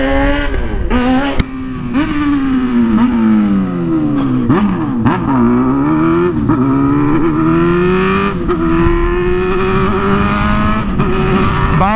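A motorcycle revs and accelerates hard on a city street, its engine note climbing and dropping through several loud, close gear changes with sharp throttle blips, with no talking.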